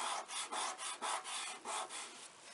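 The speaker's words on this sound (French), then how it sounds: "À l'arrière, je frotte bien pour que ça colle bien." Paper is rubbed firmly by hand against the back of a small handmade Christmas mini album to make the glue hold, a close, dry rhythmic scrubbing in about eight quick strokes with no voice.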